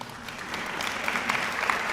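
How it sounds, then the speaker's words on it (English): Audience clapping at a senior awards ceremony, a steady, moderately distant patter of many hands that swells slightly and continues alone for a couple of seconds. "And just to clap it up for him."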